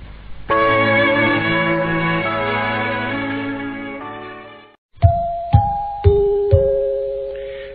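A sustained electronic melody fades out, then four clear bell-like chime notes ring in sequence, each struck and decaying: the shortwave interval signal of Radio Anguilla.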